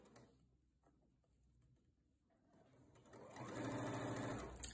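A sewing machine stitches the seams of a fabric storage triangle, starting after a quieter stretch and running as a steady, close, rapid mechanical whir to the end.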